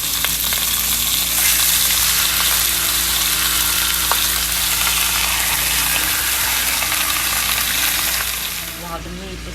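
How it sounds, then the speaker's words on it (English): Beef chuck sears in olive oil in a pan, giving a loud, steady broadband sizzle that runs the whole time and eases off slightly near the end, with a faint low hum beneath. "While the meat is searing"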